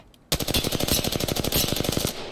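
Rapid automatic gunfire from a weapon in the battle royale game Apex Legends, a loud, dense burst of evenly spaced shots that starts abruptly and keeps pounding steadily for about two seconds.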